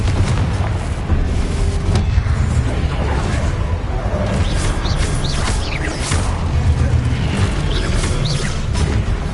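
Confringo blasting curse explosions in Hogwarts Legacy, dense continuous booming blasts and rumbling debris amid busy combat noise, loud and close throughout.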